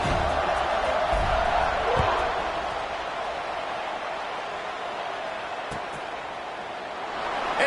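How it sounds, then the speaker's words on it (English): Football stadium crowd just before a kickoff after a touchdown, a broad steady roar of many voices filling the whole clip, with a commentator talking over it and a brief thump near the two-second mark. "this crowd now ready to get behind them"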